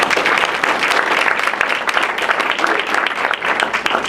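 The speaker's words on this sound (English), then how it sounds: "please let's give Fred a big round of applause" A room of attendees at a Rhinebeck Area Chamber of Commerce meeting breaks into sustained, dense applause that holds steady and loud throughout.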